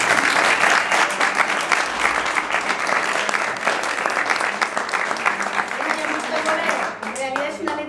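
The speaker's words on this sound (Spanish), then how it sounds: "Un aplauso para los dos." An audience applauds warmly for two jota singers after their song, a thick sustained clapping that holds loud and then thins slightly toward the end, with faint voices mixed in.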